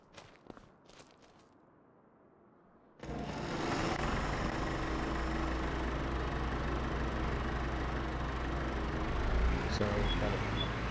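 An old tractor engine in Farming Simulator 25 starts up about three seconds in after soft clicks and footsteps, then runs steadily and loudly for the rest of the clip with a constant droning hum.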